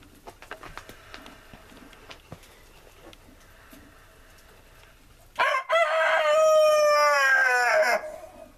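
An Orloff rooster crows loudly once, a long strained call near the end, after several seconds of quiet background rustling.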